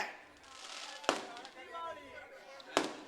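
Two sharp firecracker bangs about a second and a half apart cut through a murmur of voices and background noise.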